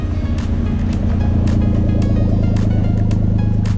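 An all-wheel-drive mini van's engine idles steadily up close, a constant low rumble with a faint regular pulse that holds at an even level throughout, with no talking over it.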